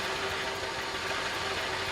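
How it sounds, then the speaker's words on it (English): A truck engine runs steadily in the video game Gold Rush The Game, a continuous mid-level hum with a faint tonal whine, moderately loud and alone. "that you can hear, that's an engine,"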